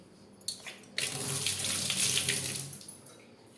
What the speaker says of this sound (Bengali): কাঠিটা আবার ধুয়ে দিই